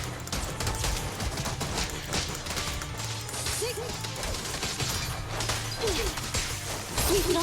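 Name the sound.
gunfire from video game Zenless Zone Zero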